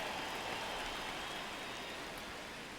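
Steady rain falling over a baseball stadium in the MLB The Show 26 video game during a Tigers at Reds game, a soft, even hiss that holds constant throughout.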